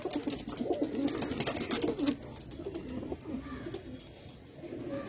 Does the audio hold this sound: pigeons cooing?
yes